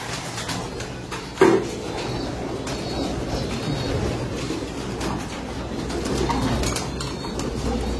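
Pigeons coo softly inside a pigeon loft, a low continuous murmur under steady background noise, with one brief thump early on and no speech.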